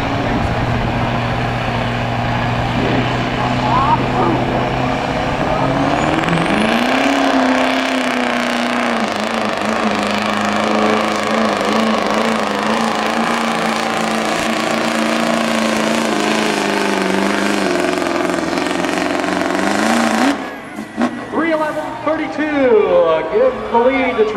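A Chevy Duramax diesel pickup roars through a truck pull run, its engine holding a loud sustained drone with rising pitch for about twenty seconds before cutting off abruptly, with an announcer talking over it.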